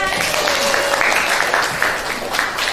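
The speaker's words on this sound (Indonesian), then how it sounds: "Ayo tepuk tangan." Students in a classroom clap together after a lesson answer, loud close clapping from a modest group with a few scattered voices mixed in, steady for nearly three seconds.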